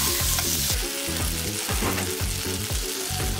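Butter sizzles loudly and steadily in a very hot kadai while making paneer butter masala, a dense continuous crackle with repeated low thuds and scraping that suggest stirring, and no one speaking.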